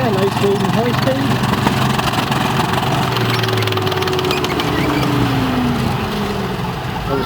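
A tracked armoured tank at a military history museum display runs its engine loudly and continuously while reversing at low and high speed, the throbbing drone shifting pitch as it changes speed, with tracks rumbling beneath.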